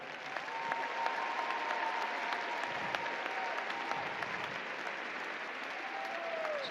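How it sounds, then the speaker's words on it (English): Audience at a university spring commencement ceremony applauding graduates, parents, teachers, friends and family; sustained, even applause from a large crowd, heard from a distance and filling the whole stretch. "So I want everybody on the floor and behind me to give all of you up here a round of applause right now."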